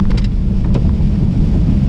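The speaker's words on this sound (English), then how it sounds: "It's raining." Rain falls steadily as broadband noise on a wet Friday, with wind buffeting and a few soft knocks, fairly loud and constant for the short stretch without any voices.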